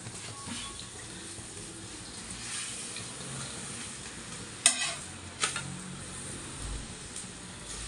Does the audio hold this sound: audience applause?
no